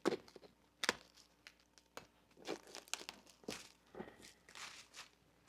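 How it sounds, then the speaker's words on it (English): Excess vinyl being trimmed from a reupholstered ATV seat cover, with quiet irregular crinkles, snips and tearing rustles in short bursts separated by near-silence, close but faint. "So we're just going to get this all cut off here."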